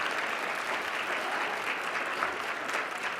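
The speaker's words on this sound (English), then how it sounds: "Dr. Weibel, yes, let's go ahead and clap for them." An audience clapping for keynote speakers at a medical student conference, a steady wash of many hands heard from within the room, even and unbroken throughout.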